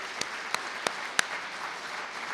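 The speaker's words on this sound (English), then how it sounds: "So let's give them a round of applause." Applause at a college all-employee meeting, honoring a Madden football video game team: a steady wash of clapping from a seated audience, with a few sharper individual claps standing out near the start.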